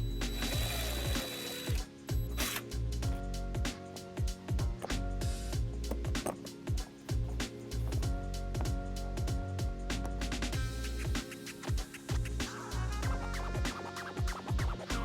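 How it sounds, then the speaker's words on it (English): Power driver sinking screws to mount a trailer wiring bracket on a 2006 Hyundai Tucson, close-up whirring bursts with repeated stops and restarts and gritty scraping as each screw bites in. "So we're gonna mount our bracket right here using these screws."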